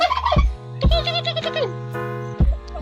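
A turkey gobbles repeatedly in close, loud bursts, with warbling calls overlapping over a few seconds.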